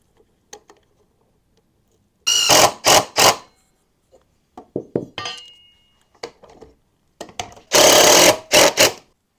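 Power drill driving screws into a wooden armrest support on a 2x4 bench swing, several short bursts of whirring with quiet pauses between, close and loud.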